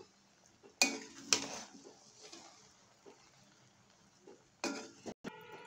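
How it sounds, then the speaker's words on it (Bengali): A spoon scrapes and clinks against a pan while keema khichuri is mixed, with a few sharp metallic knocks and softer scraping spread across a quiet background. "দিয়ে খুব ভালো করে এবার একটু মিশিয়ে নেব"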